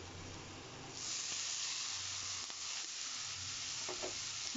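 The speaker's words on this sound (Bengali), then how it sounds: "রসুনগুলো ভাজা হয়ে গেছে, এর মধ্যে আমি দিয়ে দেব ফাইনলি গ্রেটেড বিটরুট" Finely grated beetroot tipped into a pan of fried garlic, a steady frying hiss that swells after the first second, with a few soft stirring clicks and no talk.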